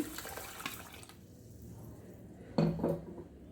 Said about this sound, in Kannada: ಇವಾಗ ಇದಕ್ಕೆ ನೀರು ಸೇರಿಸ್ಕೊಳ್ಳೋಣ. ನೀರು ಹಾಕಿ ಚೆನ್ನಾಗಿ ಅದು ನೆನೀಲಿ.